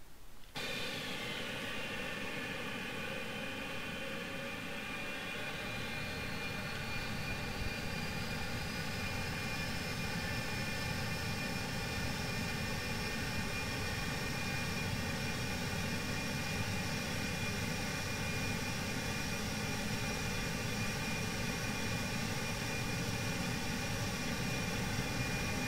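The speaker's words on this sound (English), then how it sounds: "we are flying this freeware An-225 from Thomas Ruth" Steady, loud drone of the Antonov An-225 Mriya's engines in the Prepar3D v4 flight simulator, a constant whine with layered tones that holds unbroken throughout, with no talking.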